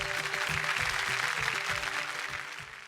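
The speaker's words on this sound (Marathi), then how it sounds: "जोरदार टाळ्या होऊन जाऊ देत" Studio audience applause at a Marathi television game show for women: a dense, steady wash of clapping fills the whole stretch, with a rhythmic low thumping beat underneath.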